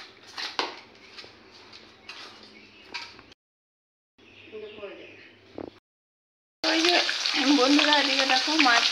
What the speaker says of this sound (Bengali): বন্ধুরা এদিকে দেখো মাছ ভাজা হচ্ছে